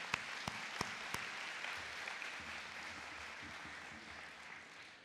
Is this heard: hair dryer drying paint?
no